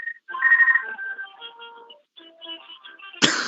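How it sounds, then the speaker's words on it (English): A mobile phone ringtone plays as a short melodic electronic tune on a live radio phone-in show, a clear tonal sequence followed by a sudden burst of broadband noise at the end. "That was my first phone going."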